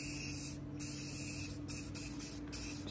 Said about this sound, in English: So we're just gonna spray inside the housing here.